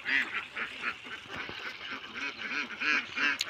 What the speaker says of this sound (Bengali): খোলা মাঠে হাঁস পালার পদ্ধতিটা।